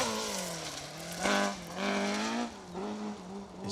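A two-wheel-drive rally car engine drones steadily on a rally stage with rising and falling revs as the driver lifts and reapplies the throttle, tyres scrabbling on the surface.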